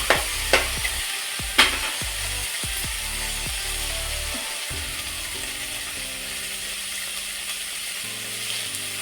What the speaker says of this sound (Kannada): ಹಸಿ ಕಾಳನ್ನು ಉಪ್ಪು, ಎಣ್ಣೆ ಹಾಕ್ಕೊಂಡು ಹುರಿದಷ್ಟು ಅದರಲ್ಲಿರುವ ಶೀತ ಹೊರಟೋಗುತ್ತೆ.